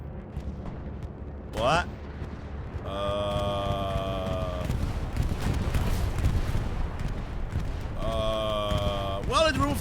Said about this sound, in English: Le bombing run, as they say.